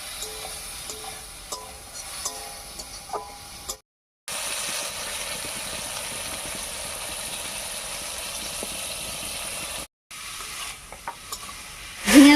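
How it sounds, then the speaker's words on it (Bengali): Ridge gourd pieces with salt and turmeric fry in a pan, making a steady low sizzle with scraping stirs. Two brief silent breaks interrupt it, and a louder clatter comes at the end. "এই অবস্থায় ঝিঙাগুলোকে একটু ভাজা ভাজা মতো করে নেবো"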